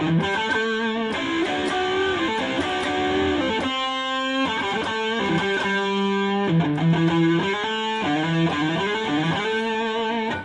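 Distorted electric guitar plays a flowing minor pentatonic blues phrase, with notes hammered off the flat second sliding up into bends and sustained tones, no voices.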